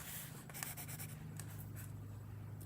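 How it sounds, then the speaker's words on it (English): A pencil sketching in a sketchbook gives a soft, continuous scratchy rub of graphite on paper, with short strokes and light taps, close and quiet under a low steady hum. "Pencil sound is so nice."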